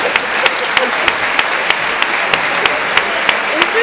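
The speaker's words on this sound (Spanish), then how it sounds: "Un aplauso." Audience applause at a panel session, a steady wash of clapping with regular sharper claps standing out, fairly loud and sustained throughout without talk.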